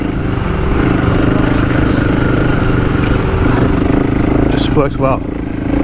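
2024 KTM 500 EXC-F enduro bike with a quick shifter, ridden off-road, its engine buzzing loud and constant while the rider talks briefly over it.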